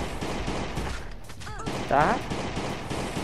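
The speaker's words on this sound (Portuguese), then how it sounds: "vai dar uns tiros na Glock mesmo" A quick burst of sharp Glock pistol gunshots in the video game Last Day on Earth, fired in a tight volley over steady game ambience, with a brief spoken word.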